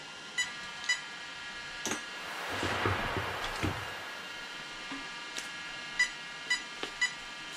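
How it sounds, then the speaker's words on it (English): Short, crisp electronic beeps come from the ESC of an Arrma Kraton 8S RC monster truck. Scattered chirps are followed by a brief rushing noise, then a closing group of three evenly spaced beeps over a low hiss. "Those three beeps coming out of the ESC."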